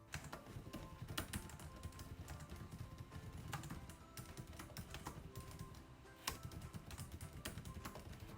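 Rapid, steady typing on a laptop keyboard, soft clicky keystrokes close up with a few louder taps.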